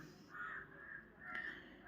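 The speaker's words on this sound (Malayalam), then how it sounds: "കാക്കകൾ എന്തോ ഒച്ചപ്പാടുണ്ടാക്കുന്നുണ്ട് പുറത്ത്" Crows caw outside in two short bursts, fairly faint and distant, over a quiet low background hum.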